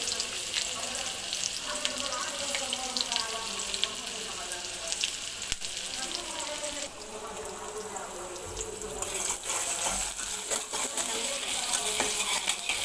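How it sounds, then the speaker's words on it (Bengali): Chopped onion hits hot mustard oil in a wok, giving a continuous crackling sizzle with occasional stirring clatter, moderately loud and close, with faint running water in the background. "এখন এখানে আমি দিয়ে দিচ্ছি পেঁয়াজ কুচি"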